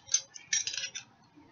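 Metal teaspoon clinking against a dish while mixing a quick homemade BBQ sauce in a kitchen: a few light, bright taps, then a brief cluster of rapid clinks, close and fairly soft, with no talking.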